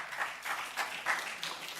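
Brief, fairly faint applause from a university debate audience, scattered clapping rising and falling in soft bursts.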